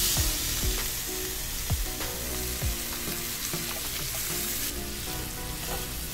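Fish and tomato pieces grill in a pan for a Kerala fish curry, a continuous close sizzle broken by a few scraping turns of a utensil, with no voices.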